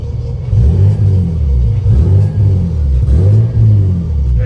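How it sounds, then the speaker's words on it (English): A 700 whp built turbo Nissan 350Z with an exhaust leak at the test pipe gasket revs hard: loud, close engine blips rise and fall in repeated surges, with a rough, raspy rumble throughout. "You guys see that exhaust leak?"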